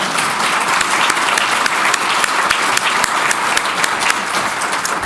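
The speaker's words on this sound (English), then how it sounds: "Let's give a round of applause to our panelists." Audience at a water reuse panel event applauding the panelists, a dense, even roar of many hands clapping close and loud throughout, without speech.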